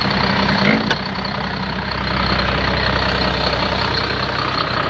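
A 1989 John Deere-style 4255 farm tractor idles at close range, a steady low diesel rumble with a slight bump near the start, running alone without talk.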